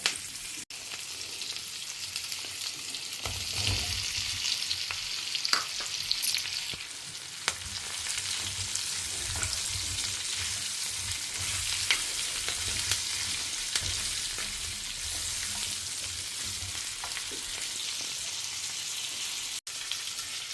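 Ingredients with asafoetida sauté in a hot pan at home, giving a steady hissing sizzle with scattered spatters and stirring scrapes that lasts the whole stretch.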